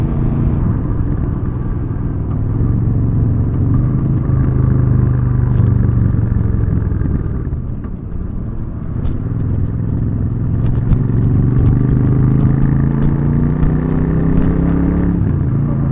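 A Royal Enfield Super Meteor 650 motorcycle engine drones steadily while riding, with a loud continuous rumble and wind rush. The pitch sags briefly midway, as at a gear change, then climbs again.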